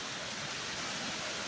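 A small waterfall in a park pond where ducks swim, giving a steady, broadband rushing wash of falling water, close and continuous with no voices.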